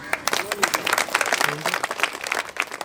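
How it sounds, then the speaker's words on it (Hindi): Group of people clapping at a Christmas celebration in Sukma, Chhattisgarh, with dense, uneven handclaps running throughout and voices talking over them. "सब ताली बजा।"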